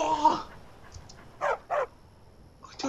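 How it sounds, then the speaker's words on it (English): Dog in the Skyrim video game: a short yip followed by two quick whimpering barks, fairly close and clear against quiet game ambience. "Is that a dog? Looks like a dog."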